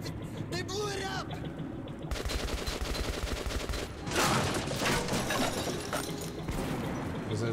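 Rapid bursts of gunfire from a video game shooter, with loud repeated shots and explosive crashes, a brief quieter lull early on, then heavier firing, and voices talking over the action.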